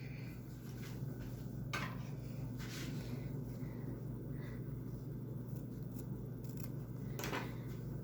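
Scissors cut fabric for a reusable grocery bag, a few crisp snips standing out close by over a steady low hum.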